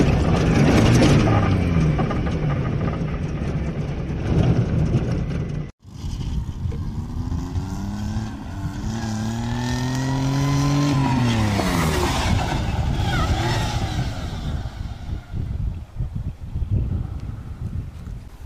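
A car engine revs hard at full throttle in reverse gear, its rising and falling whine sweeping up in pitch over a continuous roar, with a brief cutout near the start and wind noise across the microphone.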